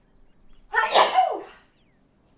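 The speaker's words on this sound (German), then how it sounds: "Oh nein, ich muss schon wieder niesen." A Sims 4 character sneezes once in the video game: a quick breathy intake, then a sharp, loud, close burst that trails off into silence, with no talking.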